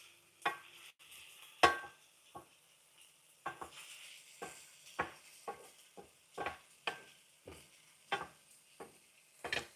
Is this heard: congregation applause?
no